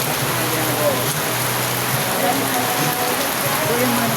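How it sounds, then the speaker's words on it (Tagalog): Heavy monsoon rain driven by a typhoon pours down steadily as a dense, loud hiss of drops hitting surfaces, with faint voices nearby under the downpour. "Ito yung mga grabe ulan talaga dito ng mga lakas na ulan ng mga lakas talaga."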